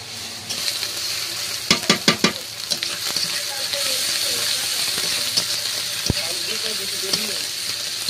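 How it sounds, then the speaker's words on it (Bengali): Garlic and ginger paste sizzle steadily in hot frying oil in a kadai after onions, a constant near hiss with a few clattering stirs early on and faint background sounds. "এবার রসুন বাটা আর আদা বাটা দিয়ে দিচ্ছি তেলে"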